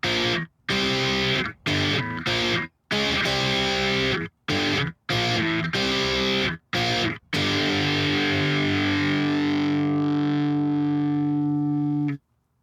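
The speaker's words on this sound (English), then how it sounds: "So all put together, it'll sound like this." Distorted electric guitar plays a riff in short chopped bursts separated by brief silences, ending on a long sustained chord that rings out and fades.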